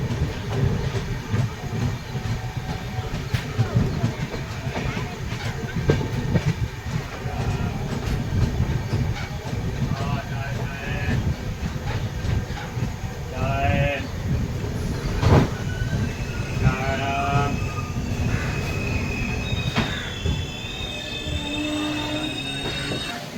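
The Kamrup Express pulls into Aluabari Road Junction on a cold, foggy morning: wheels squeal loudly and screech in drawn-out bursts over a steady rumbling clatter of rail cars, close by and continuous throughout.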